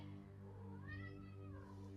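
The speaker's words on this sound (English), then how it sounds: "sorry if you guys can hear my cat." A pet cat meows once, a faint rising and falling cry heard over steady low electrical hum in a home setting during an online tabletop game session.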